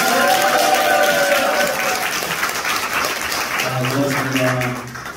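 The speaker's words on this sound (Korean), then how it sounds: "다시 한번 커다란 박수와 함성으로 동의하시기 바랍니다" A gathered crowd at a community event claps and cheers loudly, a thick burst of applause that slowly fades while a voice speaks over it and a sustained tone rises near the end.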